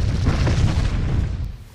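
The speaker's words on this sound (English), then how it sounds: "I've just realised I'm actually shooting them missiles" Missile launches in the Xbox One shooter Project Root during a refinery attack, a dense, continuous low booming rumble of blasts that stays loud for the whole moment and eases slightly at the end.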